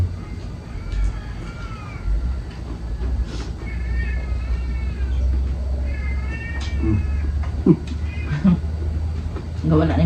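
A cat meows repeatedly in rising and falling calls, close and clear, over a low steady rumble, with a few clatters near the end.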